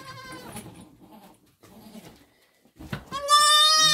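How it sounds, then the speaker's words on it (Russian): A she-goat bleats loudly, with a few short cries at first and then a long, strong bleat at the end, close by amid quiet barn noises. "Это козлица крикливая."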